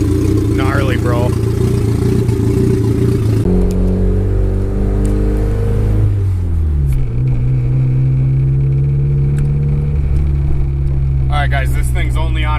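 Turbocharged Honda Civic GSR hatch with a B18C engine, PVC pipe turbo piping and a stock clutch, running on wastegate pressure; a loud, close engine hum rises and falls through steady rev changes, with someone talking over it.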